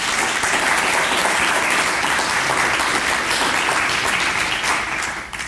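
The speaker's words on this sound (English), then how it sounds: "Round of applause." An audience breaks into sustained applause after a talk, loud, dense clapping from many hands that holds steady and tapers slightly at the very end.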